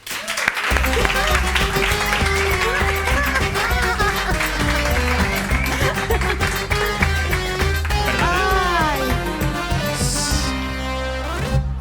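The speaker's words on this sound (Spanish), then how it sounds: "Un aplauso para Delia Santana" A studio audience applauds a guest on a Spanish TV show, loud and continuous with music playing underneath, sustained for about twelve seconds.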